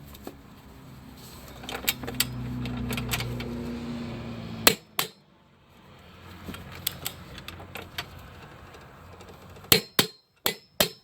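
A torque wrench tightens a front control arm bolt to 120 foot-pounds on a 2013–2016 Dodge Dart. Sharp metallic clicks and clacks come in scattered clusters over a low, quiet background, with a final burst of distinct clicks.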